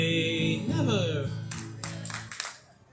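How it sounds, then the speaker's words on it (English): A few sharp claps from an audience at a live folk-song performance break out after a voice trails off, sparse and close, fading quickly. "There's 100 people here and only 4 clapped?"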